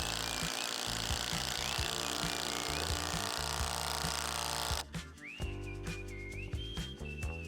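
A Porter Cable power drill drives long lag-style screws into wood while building a horse fence, giving a loud continuous grinding whir with rhythmic knocks that cuts off partway, followed by a fainter higher-pitched whine.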